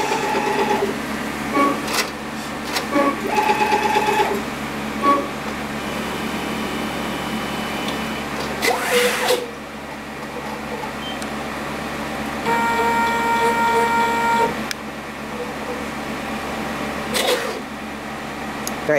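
A Perkin Elmer JANUS AJM8001 eight-tip Varispan automated liquid handling workstation in a lab moves through its cycle, with steady motor hum, repeated whirring and stepping motions, and clicking bursts at intervals, running alone close by.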